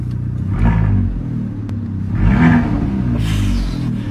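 Car engine revving in two rising, rumbling bursts close by, each swelling and falling back to a low idle, with a brief clatter between them.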